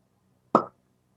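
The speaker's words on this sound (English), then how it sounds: "No, classic cork pop." A single sharp cork pop from a bourbon bottle (Still 630 X-47), one short burst standing alone against a quiet background.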